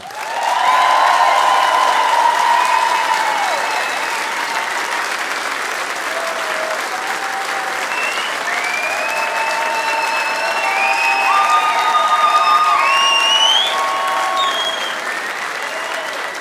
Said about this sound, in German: Und ich bitte euch jetzt, sie zusammen mit mir unter einem tosenden Applaus auf die Bühne zu bitten.